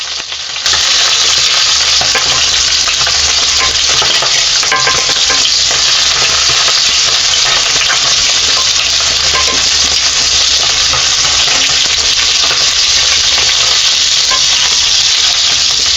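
Pancake batter frying in margarine, a steady loud sizzle with stirring and scraping noises running the whole time, close by and with no talking.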